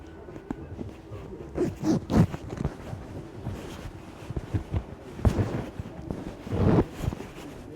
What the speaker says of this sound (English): It's like a really abstract zipper, which I can't seem to put on.